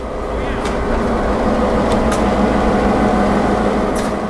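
A steady low rumble and droning hum of a heavy freight train rolling along the St. Marys Railroad, with faint squeals and clanks, continuous and close.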